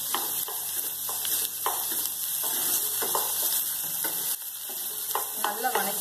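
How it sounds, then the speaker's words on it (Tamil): Sliced okra sautéing in hot oil with onion, a steady close sizzle and frying hiss with repeated stirring scrapes breaking through at irregular intervals, no voices. "வெண்டைக்காய் வந்து எண்ணெயில் வதங்கும் போது அந்த பிசுபிசுப்பு வந்து போயிடும்"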